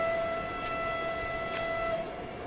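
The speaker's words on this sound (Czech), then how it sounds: "Tam jede vlak." A passing train sounds from a distance, with steady tonal humming and rumbling that holds for the whole stretch without a break.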